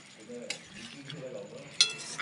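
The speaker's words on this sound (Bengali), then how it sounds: "পটল আলু তরকারিটা জল একটুখানি দিয়েছি, দিয়ে নেড়ে নিচ্ছি" A pointed gourd and potato curry with a little water is stirred in a pan, giving soft scraping and a couple of sharp utensil clinks against the metal in a short, quiet burst.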